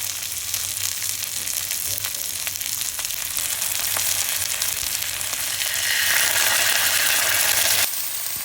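Chopped green chilies frying in hot oil, a dense, close crackling sizzle that grows louder toward the end and then changes abruptly, with no voices.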